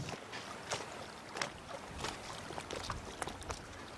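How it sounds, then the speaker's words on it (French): Faint, distant surf washing onto a shore: a steady broad hiss with soft swells breaking now and then, no voices. "on entend là, les vagues, la houle qui s'écrase sur le littoral vers là-bas"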